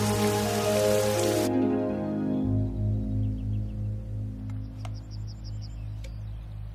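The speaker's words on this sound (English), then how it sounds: "It's been a long drought and now it's raining." Steady rain hisses over a low, droning hum, with a few faint chirps and clicks in the background.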